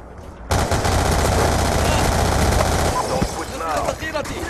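Loud, rapid automatic gunfire in Call of Duty Black Ops rattles on in sustained bursts for several seconds, with a voice talking over the shooting.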